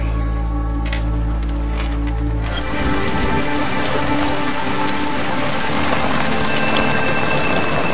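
Steady heavy rain in a dreary movie scene from the 2014 film John Wick, starting abruptly after a quieter opening and continuing as a dense, loud, even hiss with faint low rumbles and no voices.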